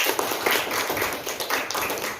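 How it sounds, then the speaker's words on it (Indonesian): Schoolchildren in a classroom clap for their classmates, a steady crackle of many small hands applauding together without pause. "Tepuk tangan dulu buat teman-temannya itu"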